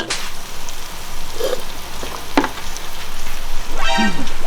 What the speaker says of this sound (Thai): ผัดไข่ให้แห้งๆไข่ให้แห้งๆ